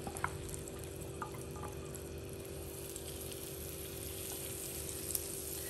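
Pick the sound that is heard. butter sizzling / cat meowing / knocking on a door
butter sizzling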